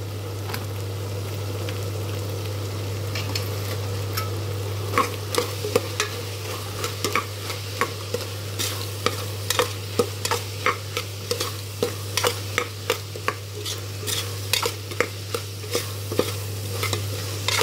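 Potato and green chana curry with chili powder fries in a pan, sizzling steadily while a spoon stirs and scrapes the metal in quickening, irregular strokes, close and without talk.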